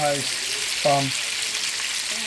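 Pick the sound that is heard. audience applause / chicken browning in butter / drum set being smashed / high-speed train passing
chicken browning in butter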